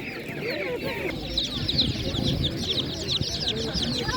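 Many young hens and laying hens cluck and chatter together close by at an animal market in Ivano-Frankivsk region, Ukraine, a busy overlapping flock sound, with a person talking underneath.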